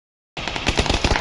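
Rapid automatic gunfire in the PUBG video game, a quick burst of sharp repeated shots beginning abruptly after a moment of silence, loud and close.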